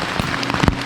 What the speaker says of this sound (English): Rain still keeps coming on and off